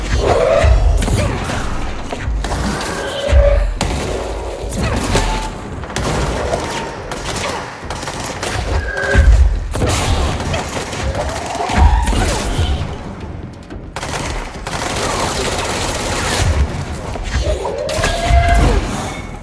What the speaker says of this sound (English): Oh no, I have the stupid spin gun.